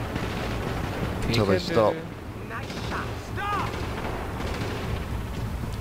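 Exchange of gunfire in the video game The Division, repeated shots and bursts echoing at mid distance under a steady background rumble, with voices talking over it.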